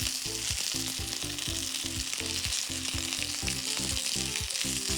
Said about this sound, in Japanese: これで焼き目つけていきますね